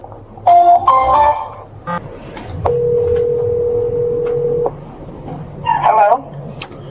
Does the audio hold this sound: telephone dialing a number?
yes